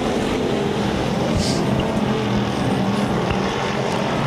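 IMCA Hobby Stock race cars at RPM Speedway roar in a thick, continuous wall of engine noise as the pack races down a straightaway, loud and unbroken throughout.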